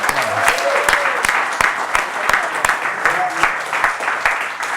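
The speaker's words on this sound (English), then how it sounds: "Let's give them a little round of applause." An audience applauds actors at an on-set celebration for a soap opera's 9000th episode, with sustained, close clapping and sharp individual claps standing out as voices talk underneath.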